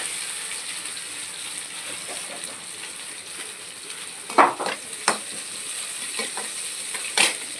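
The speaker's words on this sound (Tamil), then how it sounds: "வெங்காயம் வதங்கிருச்சு." Chopped onions and okra sauté in a pan for a home-cooked tamarind curry, giving a steady quiet sizzle with occasional scraping stir clicks and a few sharper ticks near the end.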